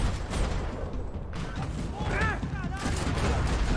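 Gunfire and a grenade blast in Max Payne 3 come through as a dense, loud burst of shots and blasts that runs the whole time, with short whooshing sweeps in the middle.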